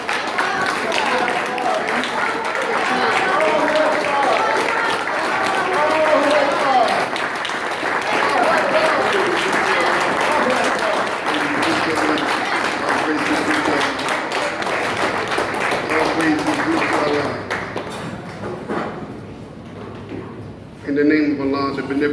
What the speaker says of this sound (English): Let's bring him up with a warm round of applause